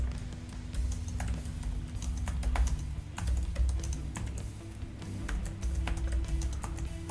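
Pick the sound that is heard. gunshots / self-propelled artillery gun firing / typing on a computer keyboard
typing on a computer keyboard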